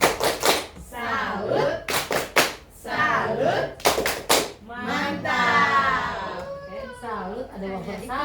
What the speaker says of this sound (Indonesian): Ayo kita tepuk salut.